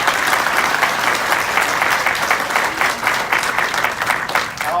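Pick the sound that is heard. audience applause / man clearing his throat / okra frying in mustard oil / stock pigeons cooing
audience applause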